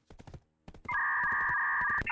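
Quick bursts of computer keyboard keystrokes while typing a search into a guild menu in Black Desert, clicks in short clusters, then a steady loud electronic tone takes over and masks the rest.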